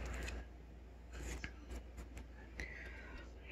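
Scissors are handled at a desk among stationery, making a few quiet, scattered clicks and snips against low background hum.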